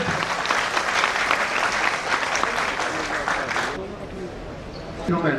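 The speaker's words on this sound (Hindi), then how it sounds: "जोरदार ताली" Loud applause from an audience at a Yuva Rajputana Sangathan stage program in 2017, vigorous clapping for several seconds that cuts off abruptly, followed by a quieter stretch and a brief voice.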